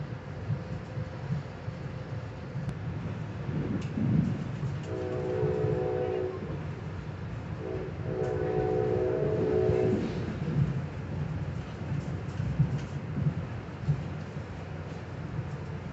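A passenger train runs along the rails with a steady rumble and rattle of the cars, and two long horn blasts sound over the noise midway through.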